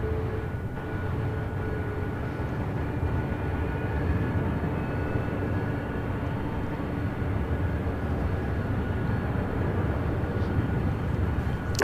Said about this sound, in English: Southwest Airlines flight 3367 heading to SFO, a 737 MAX 8, wasting no time, heading over to 24 left here on the north side